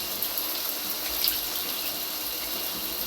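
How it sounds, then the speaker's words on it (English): Hot water from a shower runs in a steady, full hiss, constant and close throughout with no speech. "And the hot water feels really nice."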